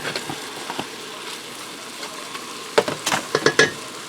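Beef browning in a pot for a low-pressure beef stew gives a soft, steady sizzle, with a cluster of sharper clinks and scrapes near the end as the meat is stirred.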